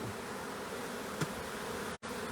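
A swarm of honey bees settled in a holly tree makes a steady, dense hum that carries on unbroken throughout, with one brief dropout near the end.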